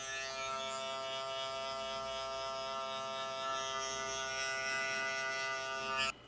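Electric hair clippers polishing an afro haircut give a steady, close, continuous buzzing hum with a bright whine, running alone without talk for about six seconds before cutting off at the end.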